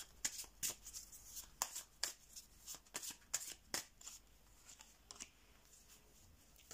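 Tarot cards are shuffled close up in quick, crisp riffles and slaps, a steady run of sharp bursts at a low overall level, with very faint speech.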